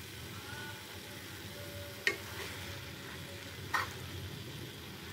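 Ghee being stirred into dry-fried cabbage with prawns in a pan: a quiet, steady low sizzle with two sharp spoon scrapes or clinks partway through and no talk.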